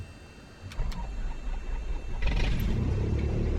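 Aircraft engine starting at ignition in Microsoft Flight Simulator 2020: a couple of clicks, then a low rumble that catches and swells into a steady, louder engine drone.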